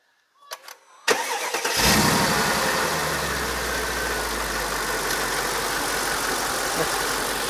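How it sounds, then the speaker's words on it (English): A Mercedes G55 AMG with a blown M113K supercharged engine and a bad piston cranks and fires, catching after a few seconds and settling into a loud, deep, steady idle close by. "Let's see what a blown M113K with a bad piston sounds like."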